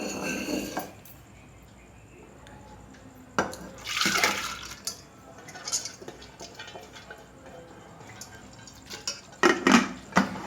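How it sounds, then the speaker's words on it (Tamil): Water splashes and pours into a cooking pot of dal amid clinks of metal utensils, with bursts of louder sloshing near the start, middle and end. "இந்த இந்த டம்ளர் அளவுக்கு தண்ணி சேர்த்துருக்கேன்"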